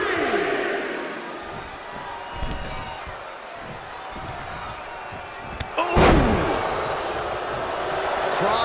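A wrestler is slammed into the ring in the WWE 2K23 video game. One heavy thud lands over a constant crowd roar, with commentary voices speaking throughout.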